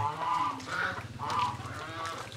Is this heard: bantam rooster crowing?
yes